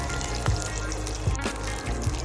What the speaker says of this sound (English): I'm now going to fry it until the cumin seeds start to splutter